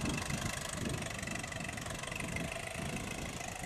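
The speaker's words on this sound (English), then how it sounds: "we have Roger Bender in a 1939 DC-4 case tractor" A 1939 Case DC-4 tractor pulling a plow in a parade chugs steadily with a low, even engine rumble, close and continuous with no voices.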